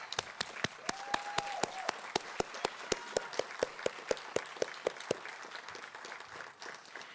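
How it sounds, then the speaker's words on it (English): An audience claps for first responders at a city address, a rapid run of sharp, distinct claps that is fairly faint and thins toward the end, with no one talking. "Let's give them a round of applause."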